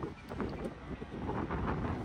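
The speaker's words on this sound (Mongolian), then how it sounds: "Ямар нэгэн салхитай байна." Wind blows across an outdoor microphone in a steady, low, rough rush, fairly faint and continuous, with no voices heard.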